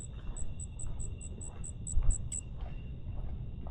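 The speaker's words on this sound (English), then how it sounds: "I do hear the crickets." Crickets chirp outdoors at night in a quiet Dallas area, a steady series of short, evenly spaced chirps over a low rumble of distant traffic and ambient noise.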